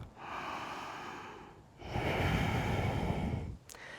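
Slow, deep yoga breaths drawn and released in a balance pose, two long exhale-like rushes of air close to the listener, the second louder, ending in a quick sharp sniff.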